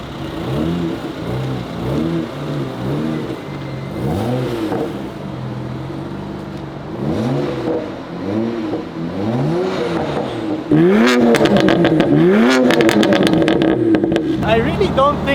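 A faulty BMW 335i engine runs and revs repeatedly in rising and falling surges, loud and close, growing harsher near the end, with people talking over it.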